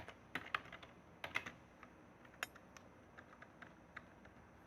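Someone types code on a computer keyboard. Irregular, fairly quiet key clicks come in small clusters with short gaps, with no talking over them.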